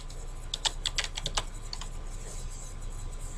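Quick bursts of computer keyboard typing, crisp clicking keystrokes packed together in the first half and then trailing off into a steady low room hum, close and clear with no one talking.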